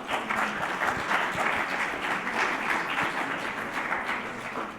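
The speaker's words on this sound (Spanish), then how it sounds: "Un aplauso a Mario, por favor." Audience applause at a conference session on integral ecology, a full, sustained burst of many people clapping together, loud and close, holding steady for several seconds before easing slightly.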